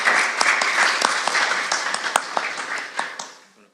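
Applause at a press conference for the web series Sin Vida Propia, a dense, steady clapping of a crowd lasting several seconds before thinning and fading out at the end.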